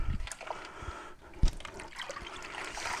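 Water draining from a sink of washed e-liquid bottles after the plug is pulled, a gurgling, trickling flow with soft splashes and clinks, moderately close and uneven.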